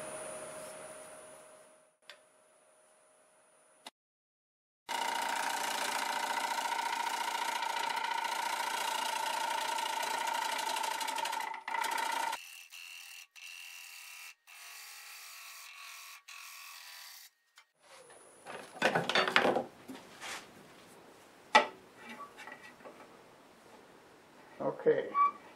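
A wood lathe cuts into lightning-struck pear wood, a steady buzzing whir of the turning blank and tool running for several seconds, broken by brief gaps, then scrapes and clattering handling noises toward the end.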